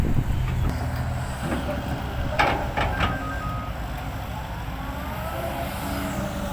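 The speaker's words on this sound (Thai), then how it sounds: "กลับรถครับ" A vehicle stuck in mud turns around, its engine rumbling low and steady while a repeating electronic reversing beep sounds close by, with a few sharper knocks partway through.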